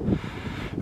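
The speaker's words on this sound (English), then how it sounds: "Very, very windy." Strong wind on the summit walk up Arthur's Seat in Edinburgh, a low steady rumble buffeting the microphone, loud and unbroken through the moment with no voices.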